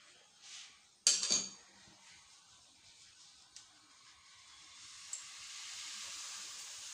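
Puri dough dropped into boiling oil sets off a sharp clatter and burst of hissing, then settles into a steady, faint sizzle that swells gently toward the end, with a few small clinks of utensils.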